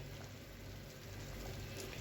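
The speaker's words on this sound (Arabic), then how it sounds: "هنسيبه بقى يغلي شويه،" Mumbar sausage and rice soup simmering in a pot, a steady low bubbling wash with soft crackle and rumble, continuous and fairly quiet throughout with no talking.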